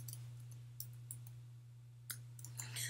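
Keyboard typing, a handful of quiet, irregular key clicks scattered over a few seconds against a faint steady hum, close by and without speech.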